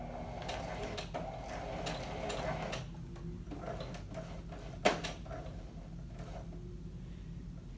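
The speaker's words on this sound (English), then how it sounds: "Then you stitch again." A sewing machine stitching shirt cloth while sleeves and cuffs are assembled, a soft mechanical whirr with light ticking, quiet and close, then a sharp clack and scattered taps as it stops.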